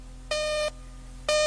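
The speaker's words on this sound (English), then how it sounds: "Mandora's tracker began to beep loudly." An electronic tracker beeps in two loud, steady tones of about half a second each, separated by a short gap, clean against a quiet background.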